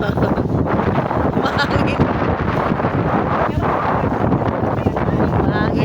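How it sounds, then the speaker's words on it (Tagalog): Strong wind buffets the microphone on Camiguin Island by rough sea, in a constant loud roar, with no pauses for the whole stretch. "Mahangin dito guys"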